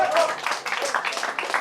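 A football crowd at a Slovenian third-league match claps in an irregular patter to cheer on the home side, a commentator's voice running over the applause.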